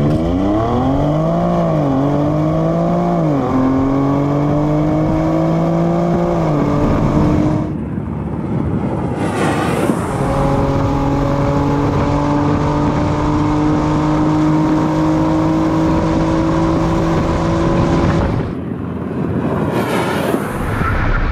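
A 473-hp 2020 BMW X3 M accelerating hard, its engine note climbing loud and close through several gears, with clear pauses at each upshift before it pulls again.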